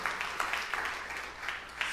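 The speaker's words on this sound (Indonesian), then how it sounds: "lambaikan tepuk tangan yang meriah untuk kemuliaan Tuhan" Church congregation clapping together in loose rhythm, a quiet, fairly distant patter of many hands with a few sharper claps standing out, sustained throughout.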